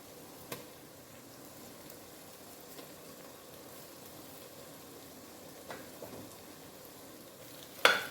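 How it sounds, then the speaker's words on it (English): Egusi paste fries gently in a pot over low to medium heat, a faint steady sizzle broken by a few soft clicks of a utensil against the pot and a sharper knock at the end. "I'll be frying this on low to medium heat."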